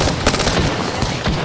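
Continuous automatic weapon fire in the battle royale shooter Apex Legends, a dense, loud, steady rattle of rapid shots filling the whole moment with no voices over it.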